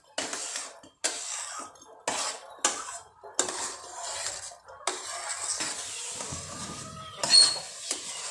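A spoon scrapes and clanks against a metal pan while stirring mango barfi mixture with cardamom powder, in a series of sharp, close metallic strokes about once a second, with a soft cough near the end.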